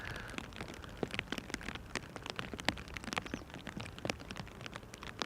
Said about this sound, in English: You can hear that the rain is still falling, but not as intensely anymore as a couple of minutes ago.